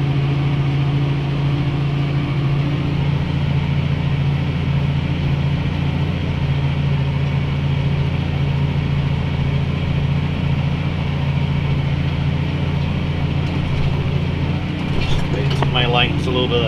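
A New Holland TM190 tractor works a field with a He Va 5-leg subsoiler disc cultivator, its engine droning steadily and loudly up close throughout, with a brief rattling clatter near the end.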